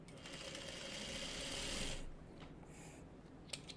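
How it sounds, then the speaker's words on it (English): A sewing machine stitches small quilt squares into four-patches for a quilt block, whirring steadily and fairly close for about two seconds before stopping, followed by light handling noises and a brief click. "So I'm just gonna sew these into 4 patches"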